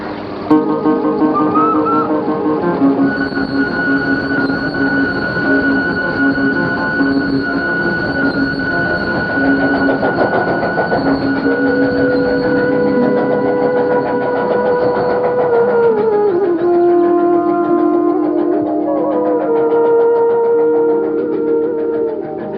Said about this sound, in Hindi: गाड़ी चली गई।